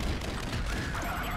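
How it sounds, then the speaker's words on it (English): Rapid video-game gunfire from Nuclear Throne, a dense, steady barrage of shots that fills the whole moment with no voice over it. "Just keep shooting."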